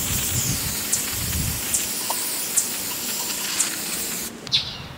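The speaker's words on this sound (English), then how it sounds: "do another set with the brake cleaner" Brake cleaner sprayed onto a brake caliper and hub in a steady, close hiss lasting about four seconds, with a few faint clicks, before cutting off abruptly.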